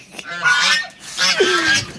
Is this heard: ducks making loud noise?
yes